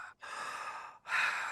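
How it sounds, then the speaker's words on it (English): Two deep, close breaths at the opening of a Styx rock recording, one long airy inhale followed by a louder, rougher one after a brief pause, with nothing else underneath. "you hear someone breathing"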